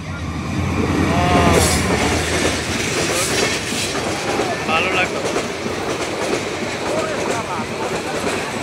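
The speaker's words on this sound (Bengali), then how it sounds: "ট্রেন এসেছে।" A train rumbles past close by, wheels clattering over the rails with occasional metallic squeals, while a person speaks briefly over the noise.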